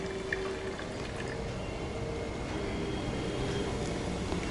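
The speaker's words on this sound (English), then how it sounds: "Can you hear the fizzing noise? That is because of the carbon dioxide." Vinegar and baking soda fizzing in a home science volcano experiment, a steady soft hiss of bubbling carbon dioxide held at an even low level throughout, with no talking.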